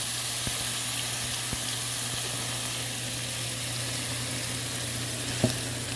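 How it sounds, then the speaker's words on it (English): Liquid for a steak stir fry bubbles and sizzles steadily in a pan as it comes up to a boil, a close, even frying hiss with a few faint clicks of a utensil. "Let it come up to a good rolling boil"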